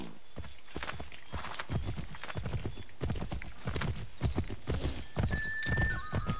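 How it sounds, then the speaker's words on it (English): Hooves clop along in the Assassin's Creed 3 video game as a horse is ridden, a steady run of rhythmic, fairly close hoofbeats lasting throughout, with a brief whinny-like tone near the end. "Can't a guy ride his horse?"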